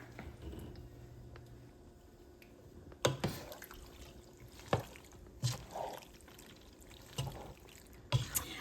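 Macaroni and cheese stirred in a pot over the heat: a handful of soft spoon taps and scrapes against the pot, spaced a second or so apart, over a very quiet background.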